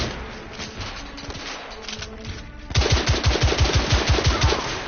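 Gunfire in The Order: 1886 video game. It starts as a murky, distant clatter, then becomes a loud, rapid burst of machine-gun shots fired close by in a steady rhythm.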